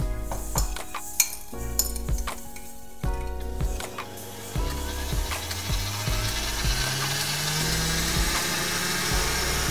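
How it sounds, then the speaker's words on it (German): An electric hand mixer creams butter with sugar, scraped vanilla bean and lemon zest. It opens with scattered clinks of utensils against the bowl, then settles into a steady whirring drone with the tone shifting slightly. "Dann wird die Butter mit dem Zucker, der ausgeschabten Vanilleschote und dem Zitronenabrieb schaumig gerührt."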